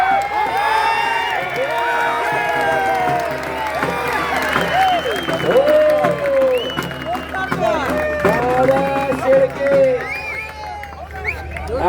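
A crowd at a kusti wrestling akhada in Vadgav, Pune claps and cheers Maharashtra Kesari Dada Shelke's win, with loud sustained applause and whoops under an announcer speaking over a loudspeaker.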